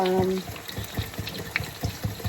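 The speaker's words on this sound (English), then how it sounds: "So I'm gonna whisk it" A liquid mixture is whisked in a bowl while preparing meatless sticky ribs: quick, rhythmic sloshing strokes repeat steadily and close by after a brief tonal sound at the start.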